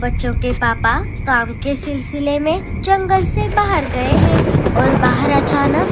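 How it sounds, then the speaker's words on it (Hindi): A cartoon thunderstorm rumbles beneath a child-like voice speaking, and the low roar of thunder and rain swells louder in the final seconds. "तेज तूफान और बादलों के गरजने की आवाज आ रही थी।"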